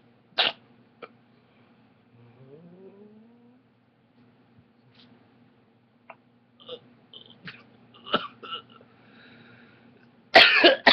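A single sharp cough at an outdoor cannabis rally, picked up near a microphone. After a quiet stretch there are faint scattered noises, a few short clicks, and a burst of rough, noisy sound at the end.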